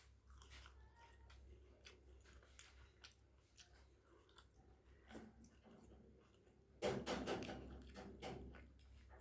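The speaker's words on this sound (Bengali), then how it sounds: "এবার আমি খাচ্ছি" Someone eating rice with drumstick (sojne) curry, with repeated close, soft biting and wet chewing sounds throughout and a louder, busier stretch of chewing toward the end.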